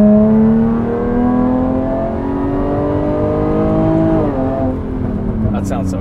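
A 2020 Jaguar F-Type Checkered Flag Edition engine runs near and loud with a strong harmonic drone, holding steady, then dipping and swelling slightly toward the end.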